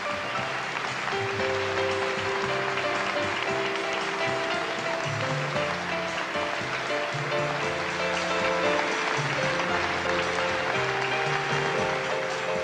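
A theater audience keeps up sustained applause for Salvano, a magician from Poland, a continuous even roar of many hands clapping throughout with a few faint tonal sounds underneath.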